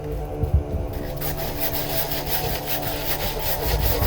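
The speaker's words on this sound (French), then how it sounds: "couper en premier le tronc d'arbre" A hand saw works through a tree trunk in a lumberjack-style contest, giving steady rhythmic rasping back-and-forth strokes, close and clear with no talk.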